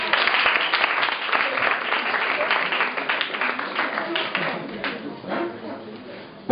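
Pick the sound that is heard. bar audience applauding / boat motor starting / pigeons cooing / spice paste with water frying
bar audience applauding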